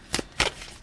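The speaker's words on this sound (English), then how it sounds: "I can't even really get a good shuffle here." A tarot deck is shuffled by hand, giving two quick papery riffles close to the microphone, each a brief flutter of cards.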